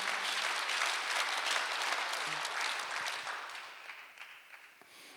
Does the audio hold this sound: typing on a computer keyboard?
no